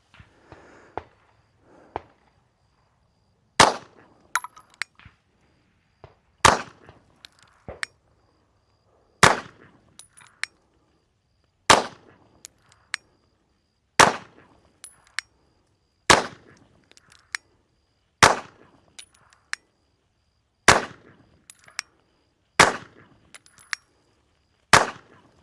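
A Shadow Systems CR920XP pistol firing a string of about a dozen sharp, loud shots at a target, evenly spaced every second or two, with faint metallic clinks of ejected casings between reports.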